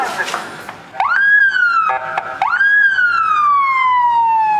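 A police car siren wails loud and close, rising and falling in two long sweeping cycles after a short burst, with some noise underneath.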